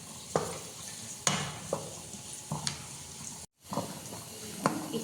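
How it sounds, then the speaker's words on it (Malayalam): Two medium onions sauté in a pan for a millet biryani. A steady low sizzle runs under repeated sharp scraping stir strokes, with one brief moment of near silence. "ഇപ്പോൾ നമ്മുടെ ഓണിയൻ സോട്ടായി വന്നിട്ടുണ്ട്."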